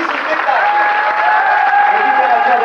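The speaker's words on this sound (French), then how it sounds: "Je vous demande d'applaudir une dernière fois toute cette équipe" An audience at a cabaret evening applauds a performing team in a continuous, loud wash of clapping, with voices and a little cheering mixed in.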